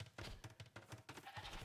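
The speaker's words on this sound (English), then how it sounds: "A lot of sheep here for the knight as well." Sheep bleating in Age of Empires II, a quick run of several short bleats in a row, faint and close together.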